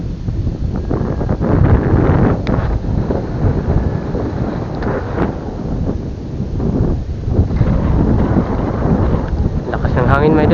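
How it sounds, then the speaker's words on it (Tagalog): Strong northeast monsoon wind roars steadily against the microphone on a fishing boat, a continuous heavy buffeting rush outdoors with no letup. "Lakas ng hangin, mga idol."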